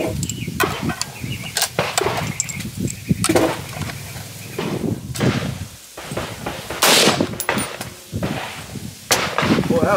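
Gunshots from cheap steel ammo fired at a target, a rapid string of sharp loud cracks and bangs, some with ringing tails, close by with voices in the background.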